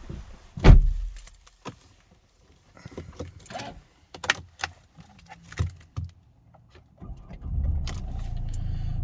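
A Mercedes C220 CDI AMG Sport diesel is push-button started: keys jangle, a door thuds and a few clicks sound, then the engine cranks and settles into a steady idle, close by.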